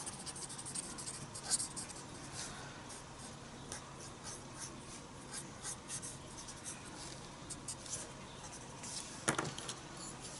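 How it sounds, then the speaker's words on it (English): Graphite pencil shading a face drawing on paper: close, continuous soft scratching and rubbing strokes with slight changes in pressure, with no voices. "I'm just using the pencil that I've put down to work on the shading."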